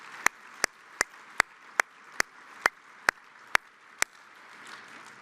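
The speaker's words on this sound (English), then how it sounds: "this is a round of applause" Sparse single hand claps, about ten sharp evenly spaced strikes, ring out in a conference plenary hall, moderately loud over a quiet room background, as an audience begins a round of applause.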